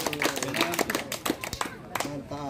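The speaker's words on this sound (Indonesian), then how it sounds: "Tepuk tangan dulu, tepuk tangan." Hands clapping at a Pekain customary ceremony of the Dayak Suruk people in West Kalimantan, with sharp claps scattered through lively voices and singing-like talk nearby.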